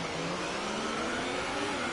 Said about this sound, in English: clutch in, build the revs, and away we go!